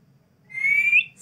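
A pet parrot gives a single short, clear whistle that rises in pitch and lasts about half a second. It sounds close and fairly strong over faint low background noise.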